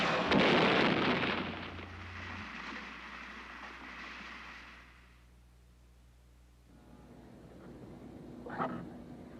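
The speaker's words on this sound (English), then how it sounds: "the gun fires metal pellets down a barrel more than 3 stories long" A laboratory gun fires metal pellets at 25,000 miles an hour down a barrel more than three stories tall: a loud, roaring blast that slowly fades over several seconds, then a faint knock near the end.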